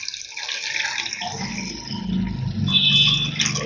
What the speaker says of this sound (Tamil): 3 பங்கு தண்ணி ஊற்றணும்.